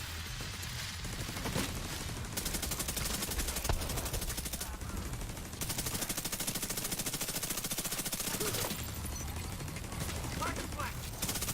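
Sustained automatic gunfire in a shooter video game, rapid rattling bursts broken by brief pauses, with a voice talking over the shooting at times.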